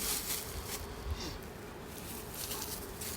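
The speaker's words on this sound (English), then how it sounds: "that's the bees buzzing" Honey bees in a smoked hive hum with a low, continuous buzz, faint and close, with small bumps of handling noise and no talking.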